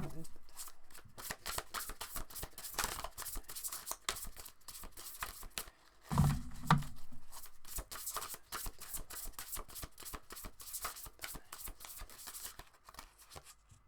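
A tarot deck is shuffled at close range, giving a quiet, continuous riffle of cards with a brief louder burst midway; a voice speaks faintly underneath.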